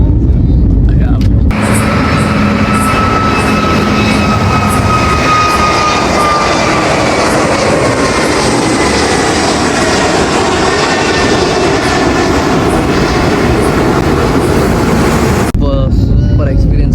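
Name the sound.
airplane taking off, engine noise in cabin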